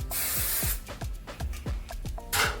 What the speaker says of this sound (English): I almost sprayed it the other way